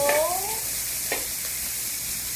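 Crab is stirred in a sizzling pan, with a constant hiss of frying, a squeaky scrape of the utensil at the start and a faint second scrape soon after.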